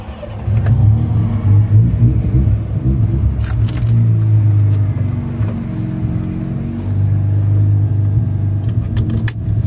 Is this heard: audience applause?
no